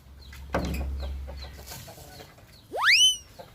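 Chickens in a simple homemade farmyard coop in rural northeast Thailand give soft clucks, then one bird lets out a loud rising squawk near the end, close by, with no talking.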